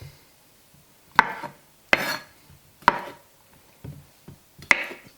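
Knife slicing through boiled potatoes on a cutting board, several separate sharp chops spaced about a second apart, close and clear with quiet pauses between.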